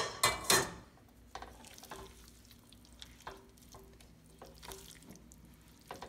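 Chicken stock stirred into a pot of etouffee, a loud liquid splash and stir at the start, then quieter scraping strokes in a slow rhythm with faint sizzling underneath.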